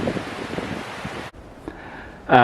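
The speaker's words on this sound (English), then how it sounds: "Yeah, very windy. Probably quite noisy on the videos" Steady broadband roar of strong wind buffeting the microphone on a forested ridgeline in Mt Oxford Forest Park, dropping briefly to a quieter whoosh before a loud gust bursts in at the end.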